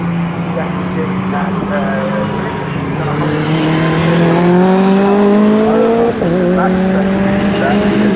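A time attack race car accelerates hard down a straight, its engine note climbing steadily through the gears in a loud, continuous roar, with a brief shift dip near the end and commentary running over it.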